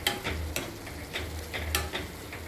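Vegetables with potatoes are sautéed in a pan, with a soft, continuous sizzle broken by a regular rhythm of scraping stirring strokes close up, and no talk.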